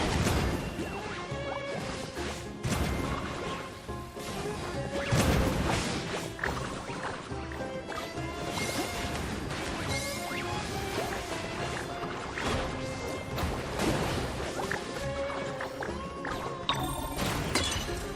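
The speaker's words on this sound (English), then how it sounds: "Let's finish this with a water balloon meteor strike!" A water balloon meteor strike in the video game Fabulous Fungus Frenzy brings a dense, continuous wash of crashing, splashing impacts and smashes over a busy, loud soundtrack that hardly lets up.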